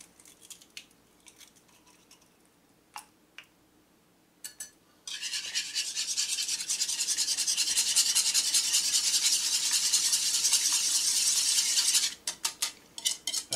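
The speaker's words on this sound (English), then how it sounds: "whisk our egg" An egg is whisked in a bowl while making beer batter for milk-marinated catfish. A few scattered clinks and taps come first, then about seven seconds of steady, rapid metallic scraping, followed by a few more taps. No voices.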